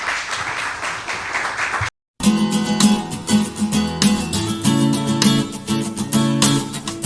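Church congregation applauding, a couple of seconds of broad clapping that cuts off abruptly, then music with sustained tones and rhythmic hits takes over for the rest.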